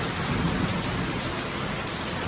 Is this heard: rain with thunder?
yes